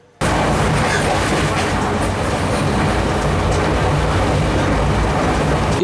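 Mandovi Express train on the Konkan railway during the monsoon, heard as a loud, steady rumble and rush of the running train that starts abruptly and continues without a break.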